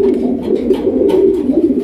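A pigeon, a sky-blue Rajgolla breed, coos close by in a steady run of low throaty calls that rise and fall for the full duration, with no voices over it.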